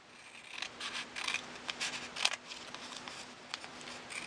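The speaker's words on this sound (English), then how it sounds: "So I'm going to take the scissors and take this off." Close, quiet snips of scissors cutting through paper in a quick irregular series.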